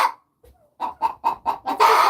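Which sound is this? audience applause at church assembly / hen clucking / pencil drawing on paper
hen clucking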